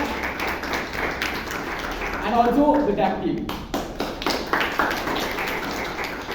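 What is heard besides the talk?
audience applause at a Toastmasters meeting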